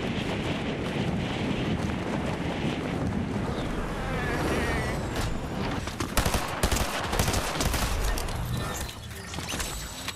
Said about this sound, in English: Here's Fortnite using the performance renderer on high settings.